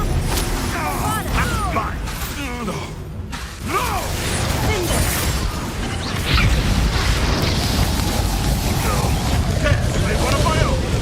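A Confringo explosive spell cast in Hogwarts Legacy fight combat, loud booming blasts and rumbling impacts repeating over roughly eleven seconds beneath voices and a dense game soundscape.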